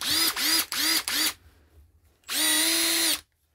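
A Milwaukee M18 BID cordless impact driver runs in four quick trigger bursts, each with a rising whine, then a pause and one longer sustained run, close and loud with no talking.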